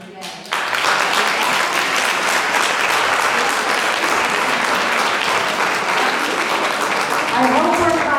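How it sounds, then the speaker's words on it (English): Audience applause at a school district referendum town hall, a dense, loud burst of clapping that starts abruptly and holds steady for several seconds, with some voices rising near the end. "I hope we're clapping for the teachers, always clap for the teachers."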